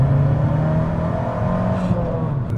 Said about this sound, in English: the way that the turbo spools, the way that the exhaust sounds, it is all so ridiculous